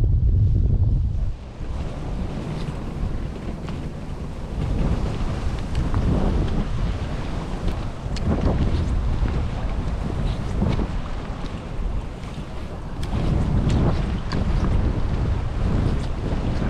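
Strong wind over 10 m/s at Lake Hamana buffets the microphone in heavy, continuous gusts, with waves and water movement rolling beneath the roar.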